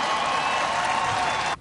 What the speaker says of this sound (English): As soon as he said, we passed health care reform, crowd goes wild